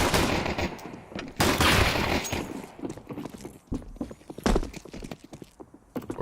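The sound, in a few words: Glock pistol gunshots in Counter-Strike 2 video game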